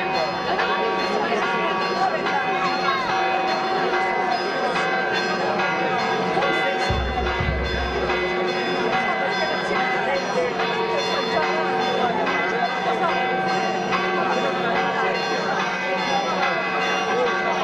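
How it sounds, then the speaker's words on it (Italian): Church bells ring for the patron saint festival of Sant'Antonio di Padova in Anversa degli Abruzzi, a busy layered peal of many sustained tones carrying on continuously in the open air. "le campane suonano una gran festa"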